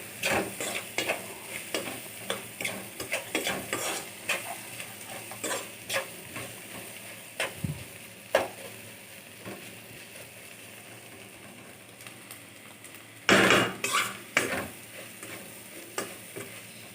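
Ivy gourd fries in oil in a pan, with a low sizzle under irregular scraping and clattering stirs, some louder knocks among them.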